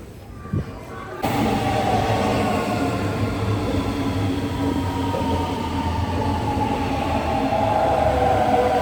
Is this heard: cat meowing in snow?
no